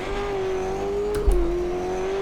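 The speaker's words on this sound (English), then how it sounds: "Such a loud car." A race car engine in Automobilista 2 drones loudly and steadily at Curitiba track, holding a high sustained pitch with a brief dip and a low thump midway.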